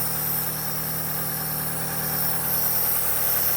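Perodua Kembara engine idling after repair, a steady, even hum with constant mechanical whine and no variation in pitch, heard close and alone.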